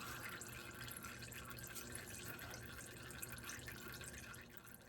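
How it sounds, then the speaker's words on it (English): Old engine oil draining from a 1950 Oldsmobile Rocket 88 with an original 303 V8, a faint, steady trickle and patter of liquid running into a container, continuous and without voices. "I like to let all my oil drain out."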